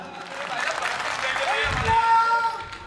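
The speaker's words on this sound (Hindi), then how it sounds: "ताली बजाओ।" Applause from an audience at a Hindi poetry recital (kavi sammelan), a broad sustained wash of clapping and crowd noise running throughout, with voices mixed in underneath.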